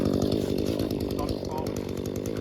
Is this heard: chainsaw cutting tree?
yes